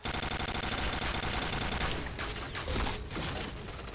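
Famas G2 fire in the shooting game Point Blank: loud, rapid automatic bursts that run unbroken at first, then break into shorter volleys with brief gaps.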